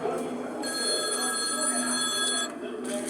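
A telephone bell rings close by in a steady electronic trill, cutting off briefly and then starting again before it is answered, with a faint murmur under it.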